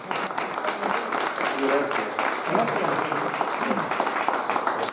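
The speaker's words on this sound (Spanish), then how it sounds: "Un aplauso." A group on an outdoor literary walking tour about Mariana Pineda claps steadily at moderate volume, while a voice speaks briefly over the applause.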